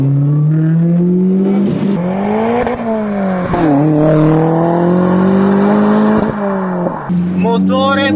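A Lotus Elise 220 Sport, mid-engined and rear-drive, is driven hard on a track, its engine note loud and close, rising and falling with gear changes and revs throughout.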